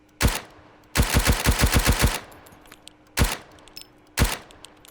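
An MP5 submachine gun fires in a survival video game: a single loud shot, then a rapid burst of about eight rounds, then two more separate shots. The shots are close and sharp, with no talking.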